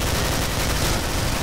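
Steady, dense gunfire crackles throughout a Killing Floor co-op match, a loud continuous burst with no clear gaps between shots.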